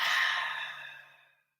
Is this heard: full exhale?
yes